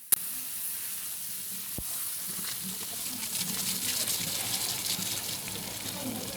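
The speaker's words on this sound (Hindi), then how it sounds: "तो फिर हम इसके ऊपर तड़का लगा देंगे" Hot tempering oil with chillies and curry leaves sizzles steadily over lentils in a pan, a bright, continuous crackling hiss after a sharp click at the start.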